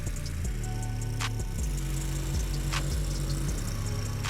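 A Caiman tracked amphibious ATV crosses a flooded ravine, its engine droning steadily and close, with the pitch dropping and rising in repeated steps as the load changes and splashy bursts breaking through over the rumble.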